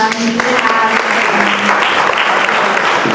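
A luncheon audience applauding a representative, a full steady round of clapping from many people, fairly close and loud throughout, with some voices mixed in.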